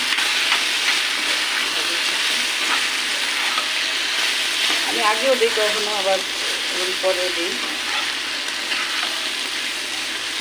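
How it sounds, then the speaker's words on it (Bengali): An egg fries with onions in a pan under a loud continuous sizzle, with stirring scrapes, and a person speaks over the cooking partway through. "পেঁয়াজ ভাজার সময় ডিম দিয়ে দিই।"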